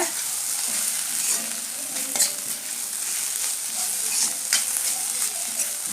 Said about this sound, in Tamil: கொத்தமல்லி இலை போட்டோம்னா லைட்டாக ஒன்று கூட நீங்கள் வந்து இப்படி கிளறி விட்டுக்கோங்க